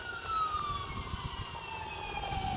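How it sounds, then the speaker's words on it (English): An ambulance siren wails with a steadily falling pitch as it passes near the Walterdale Bridge, over a constant background rumble of traffic. "I hear ambulances coming or going."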